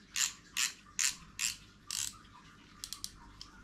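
Fishing reel drag being cranked fully tight, giving several loud ratchet bursts at a steady pace followed by a few sharper, quicker clicks, close up with no talking.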